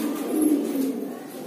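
A Deobandi pigeon coos once, a low, soft, throaty rolling call, close by.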